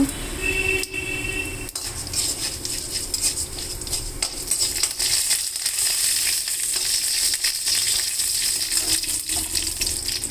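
Cumin, mustard seeds and urad dal sizzle in hot oil as a tempering for an amaranth leaf fry, a steady crackling hiss close by with a few sharp pops and faint stirring, continuing unbroken throughout with no voices.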